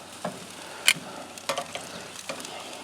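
Thick-cut pork chops sizzle on a Thermos charcoal grill with a soft, steady crackle, broken by several sharp clicks and clatters as the meat is moved around.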